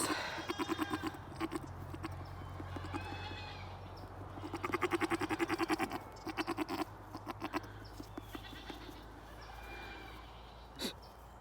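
Boer goats bleat repeatedly in wavering, quavering calls, some close and loud, over a steady low hum.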